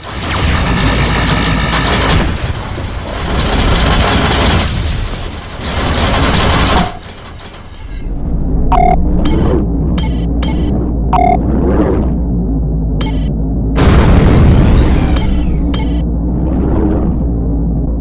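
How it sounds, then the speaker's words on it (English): Missile explosions in the space combat game Rebel Galaxy Outlaw: loud, heavy booming blasts rolling in bursts, followed by sharper electronic impact pings and rumbles, dense and close. "Missile inbound."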